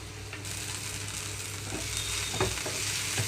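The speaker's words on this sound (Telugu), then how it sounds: "ఇంకొంచెం వేగాలండి దొండకాయ ముక్క మూత లేకుండా ఇలా ఉంచేస్తున్నాను" Pieces of ivy gourd (tindora) fry in an open, uncovered pan, giving a steady close sizzle with occasional stirring scrapes and no talk.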